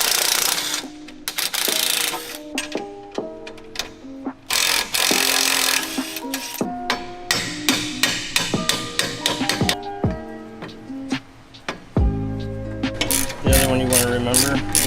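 Suspension bolts being undone on a VW Alltrack mk7 during a coilover install, with rapid metallic ratchet clicking in bursts, some clanks of tools and a power tool whirring near the end, all close up.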